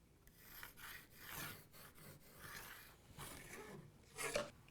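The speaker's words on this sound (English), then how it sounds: "along this edge, I'm just going to mark a 1/2 inch line" Pencil or marker scratching a line along the edge of a sewing machine tabletop, a series of close, soft rasping strokes of varying length with short pauses between them, ending in a slightly louder stroke.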